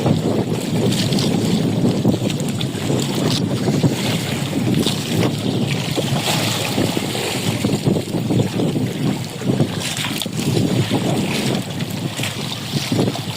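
Rough sea waves crash and churn under constant gusting wind buffeting the microphone, a loud, unbroken roar throughout.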